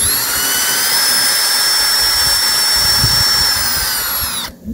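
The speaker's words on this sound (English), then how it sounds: "We're going to use this drill at a 90-degree angle to the tree" A power drill whines loudly and steadily at close range, boring continuously into a maple tree trunk for several seconds before cutting off abruptly at the end.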